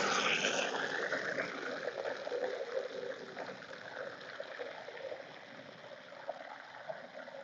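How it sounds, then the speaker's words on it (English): Water is poured steadily into a self-watering plant pot, a continuous close splashing trickle that gushes at first and then settles into an even stream, with no talking. "I'm going to put some water. I have a self-watering pot, so I'm just going to put it in there."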